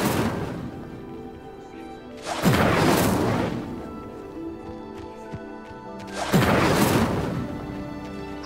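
Incendio fire spell in Hogwarts Legacy igniting pyres: two loud whooshing, crackling bursts of flame roughly four seconds apart, each swelling suddenly and fading over a second or so, over a low game ambience.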